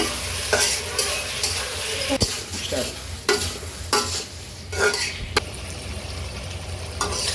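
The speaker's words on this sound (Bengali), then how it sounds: "এখন দিয়ে দেবো একটু চিনি, দিয়ে একটু নাড়াচাড়া করে নেব।" Close, steady sizzling of chili chicken frying in a pan with soy sauce, green chilies and sugar, broken by repeated scraping strokes of a spatula stirring against the pan.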